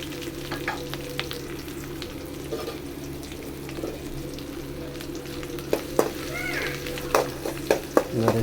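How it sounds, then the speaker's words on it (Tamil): Small onions frying in a pan for chicken gravy give a steady close sizzle, with sharp scraping and clinking stir strokes growing more frequent toward the end. "நல்லா சின்ன வெங்காயம் வந்து நல்லா பொரியணும், நல்லா வதக்கிடணும்."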